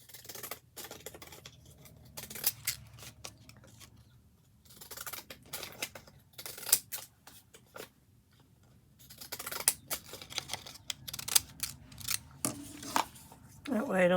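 Scissors trimming a sheet of paper for a scrapbook-style craft page, making repeated crisp snips in several bursts with short pauses between, close and fairly quiet, with no talk.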